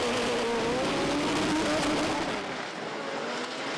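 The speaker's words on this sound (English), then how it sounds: "it looks like Nicholas has got the jump off the start line" Drag racing cars, including a Citroën AX with wheelie bars, launching off the start line at Santa Pod during Doorslammers: a loud, sustained engine roar that fills the whole stretch and eases slightly at the end.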